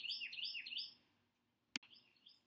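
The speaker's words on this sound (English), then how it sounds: "Do you hear the birds talking?" Small birds chirp in quick, rising, repeated phrases at moderate distance, first in a busy run and then more sparsely after a brief sharp click, with no voices.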